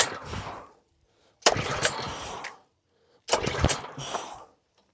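A Husqvarna pressure washer that won't start gets three close, rough pull-start attempts, each burst of rattling and sputtering cut off by silence without the engine catching.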